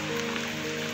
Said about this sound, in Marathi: बारीक बारीक पाऊस चालू आहे